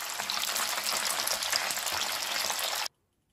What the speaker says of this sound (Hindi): चारों तरफ से अलट पलट कर गोल्डन ब्राउन होने तक फ्राई कर सेलो फ्राई करके रेडी करेंगे।